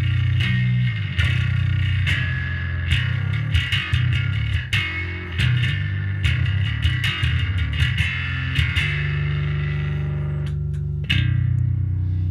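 An electric guitar plays through a phaser with a swirling, distorted sound, sustained and loud throughout with sharp picked attacks.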